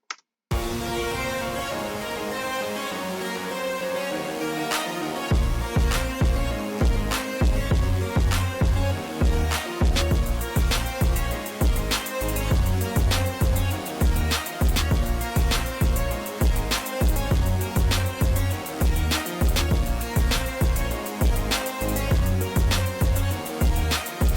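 A boomy, arena-style section of a cinematic song made in FL Studio opens softly, then heavy pounding drums kick in with a driving steady beat under dense, loud synths.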